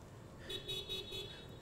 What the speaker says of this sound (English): Thank you to the one car that beeped